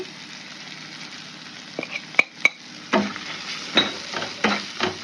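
Onion, tomato and spices are stirred in a frying pan for an egg sandwich, heard as a low background sizzle with a few sharp clinks and scrapes of a utensil against the pan, close and moderately loud.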